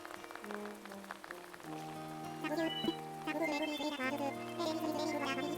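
Rain in Animal Crossing New Horizons falls as a soft, steady patter under cheerful game music, continuous and fairly quiet throughout.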